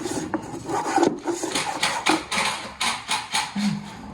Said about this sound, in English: So I'm going to go ahead and start planing now.